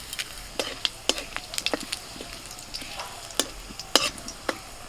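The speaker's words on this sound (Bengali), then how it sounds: "কড়াইয়ে একটু সর্ষের তেল দিয়ে দিচ্ছি, ফোড়ন দিচ্ছি গোটা জিরে," Whole cumin seeds crackle in hot mustard oil in a wok alongside bay leaf and dried chili, a soft sizzle underneath with scattered sharp pops and spits at irregular intervals, close and moderately quiet.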